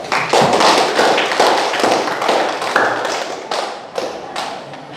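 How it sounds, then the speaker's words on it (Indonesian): Applause in an Indonesian classroom lesson: a short burst of clapping hands, sharp rapid taps at close range that start loud and thin out toward the end. "Oke, beri aplaus."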